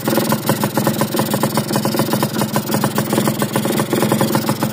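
Yamaha motorcycle engine idling after a clutch plate and lining replacement, a steady close mechanical putter with an even rhythmic pulse throughout, no talking.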